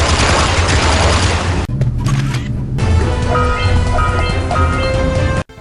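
Gunfire from the video game Jak and Daxter: The Lost Frontier: dense, loud bursts of rapid shots with booming impacts, a brief lull mid-clip, then continued rattling fire until an abrupt stop.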